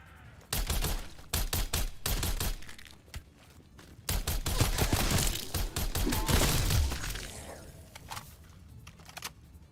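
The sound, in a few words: single-shot gun gunfire in a video game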